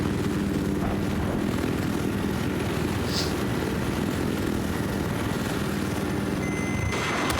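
Helicopter rotor and engine drone in Battlefield 4, a steady dense thrum holding loud and unbroken throughout, with faint distant game effects beneath.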